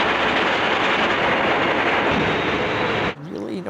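Thread mill machinery in a factory makes a dense, loud, steady clattering roar that stops abruptly near the end, after which a voice is heard speaking.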